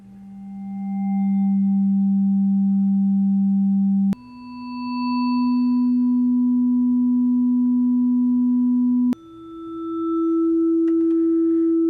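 A synthesized bowed string from a ChucK STK instrument plays three long sustained notes, each stepping up in pitch. Each swells gradually in loudness and brightness before holding steady, with a pure, smooth tone and no voice.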